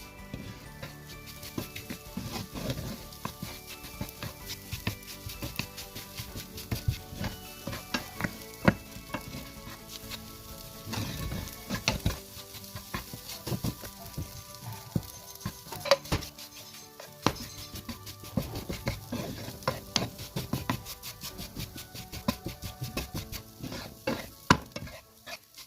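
Egg stuffing for samosas frying in a pan, pressed and stirred with a spoon: continuous close sizzle with frequent scraping and clinking spoon strokes against the pan, no talking.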